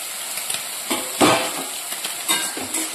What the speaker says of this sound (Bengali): আর এদিকে এই যে ছোটো মাছটাকে ভাজার জন্য বসিয়ে দিয়েছি